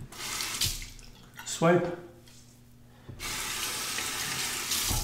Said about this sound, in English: Temper the razor under the hot water.